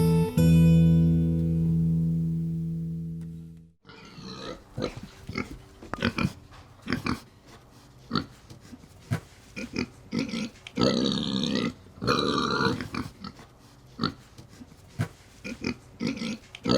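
Wild boar grunt in a series of short, rough, uneven snorts after a brief sustained tonal hum at the start, close and fairly loud with no talking.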